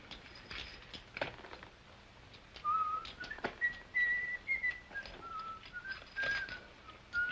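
A person whistles a wandering tune softly amid faint clicks and rustling, the notes brief and slightly distant over a quiet background.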